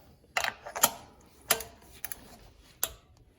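A torque wrench snaps off several sharp clicks while tightening spark plugs on a 4G Mitsubishi Eclipse GS. The clicks are irregular and close by, with faint ratcheting between them.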